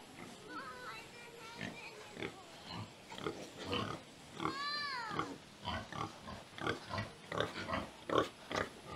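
Pigs in a piggery grunt and squeal repeatedly at close range just after feeding, with snorts coming in irregular bursts and one high drawn-out squeal midway.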